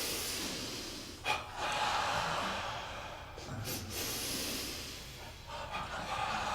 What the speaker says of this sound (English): try this double breath first